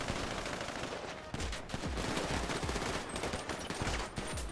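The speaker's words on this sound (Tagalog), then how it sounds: "Meron pa, may pumuputok pa." Dense gunfire in the GTA roleplay game, a loud, continuous stream of overlapping shots and automatic bursts with one short break, no talking over it.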